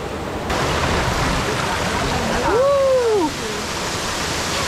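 The Gunung Pulai waterfall in Johor Bahru, Malaysia roars as a loud, continuous broadband rush heard close at its base. A brief rising-and-falling whistle-like tone cuts through midway.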